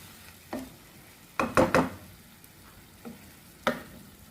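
Carrot thoran sizzles in a pan on high flame as its water cooks off, with a soft frying bed broken by several sharp spatula scrapes in quick bursts.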